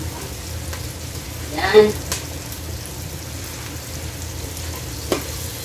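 Onions sautéing in a pan for chicken sotanghon, a steady soft sizzle with a brief stir scrape near the middle and a short spoken word.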